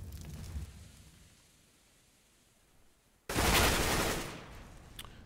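Gunfire bursts out in a Counter-Strike match on the Inferno map, a sudden loud volley of rapid shots after a quiet stretch, sustained for about a second before trailing off, with a faint shot or two afterward.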